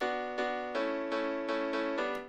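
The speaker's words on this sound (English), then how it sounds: "before it was in mono" Mono piano playing sustained chords, a fresh chord struck about every three-quarters of a second, each ringing into the next, loud and alone with no talk.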